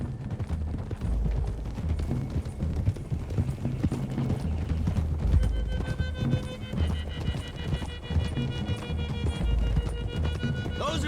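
Horses gallop along a hill road in the video game Red Dead Redemption 2, with rapid, steady hoofbeats close by, an occasional whinny, and voices talking over the riding.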